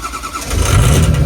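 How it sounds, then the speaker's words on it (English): A truck engine cranks and catches on a cold 20-degree morning without a block heater, the starter churn giving way to a steady, loud low idle that holds to the end. "We're only gonna crank the key once."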